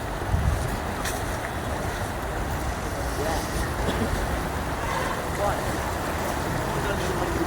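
Strong floodwater surges through the Banas river at the Deesa bridge, a loud, steady roar of rushing water with wind buffeting the microphone throughout.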